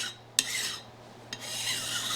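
Metal file rasping across the flat sole of a new hand plane, toe to heel, with two sharp clicks as the file is set down, then a steady close scraping stroke; no talk.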